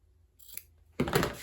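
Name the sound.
cutting fabric parallel to the stitch line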